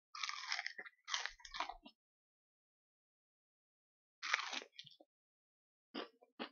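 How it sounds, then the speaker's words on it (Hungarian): Crispy Korean twice-fried spicy chicken wings bitten close to the microphone, giving two clusters of sharp, loud crunches followed by quieter chewing after a pause, with no talking. "Muszáj demonstrálnom azt, hogy mennyire ropogós."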